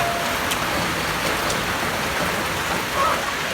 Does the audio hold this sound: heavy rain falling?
yes